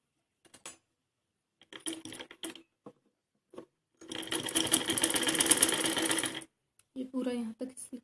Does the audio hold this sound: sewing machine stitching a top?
yes